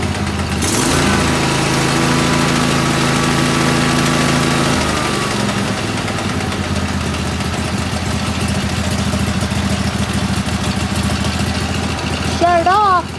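Kawasaki engine on a grass blower running outdoors by a shed, a loud, close, continuous drone that shifts in pitch partway through.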